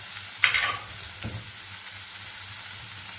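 Chopped onions salted and sautéing in a pan for mushroom curry give a steady close sizzle, with a couple of brief scraping stirs from a spoon, and no one speaking.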